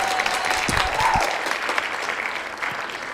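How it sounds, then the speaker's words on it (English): A small audience at a music tech masterclass applauds, with a steady patter of clapping and a few louder hand hits, softening toward the end. "thank you for the applause"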